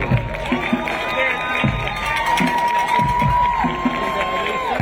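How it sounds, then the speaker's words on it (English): At a Seventy First vs. Richmond high school football game, the stadium crowd cheers and claps for the flag team, a loud, continuous roar with shouting voices over it. "How about a round of applause for our flag team?"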